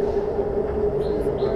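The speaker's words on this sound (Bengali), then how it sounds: "মেট্রো রেলে খুবই সুন্দর ভ্রমণ হয়।" A Kuala Lumpur metro train runs along with a steady, moderately loud interior hum and a low rumble throughout this brief stretch.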